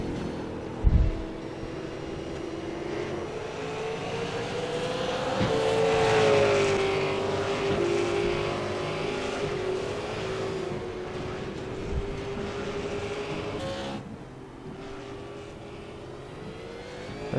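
A V8 race car engine on a lap at Twin Ring Motegi, heard from on board as a loud sustained drone that climbs and settles in pitch with gear changes, with a sharp knock near the start.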